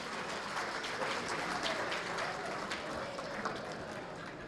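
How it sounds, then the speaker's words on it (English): A crowd applauds at a school district athletic hall of fame induction ceremony, dense, even clapping from many people sustained throughout with a few sharper individual claps standing out. "Give them a round of applause,"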